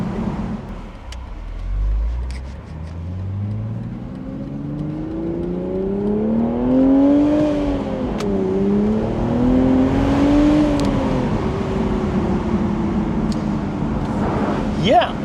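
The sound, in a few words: BMW Z4 M40i engine driving in comfort mode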